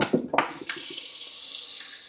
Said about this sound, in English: While we're filling that water up